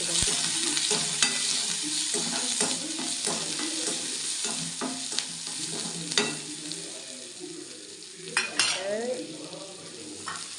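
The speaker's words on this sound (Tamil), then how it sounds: "கருவேப்பிலை போட்டோடனே நல்லா வதக்கி விட்டுக்கோங்க" Mustard seeds and curry leaves sizzle and fry in a pan while a spoon stirs steadily, with frequent scraping clicks and occasional metal knocks against the pan, close and continuous, no voices.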